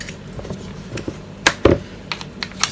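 Metal spatula scraping chocolate ganache off the side of a cake, a few short scrapes and taps close by against a quiet room, with one louder scrape standing out.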